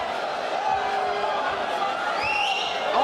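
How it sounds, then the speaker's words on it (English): Arena crowd at a Bellator MMA fight in London booing a fighter, a steady, moderately loud mass of voices holding throughout, with scattered whistles rising near the end. "Again, the crowd give him the bird."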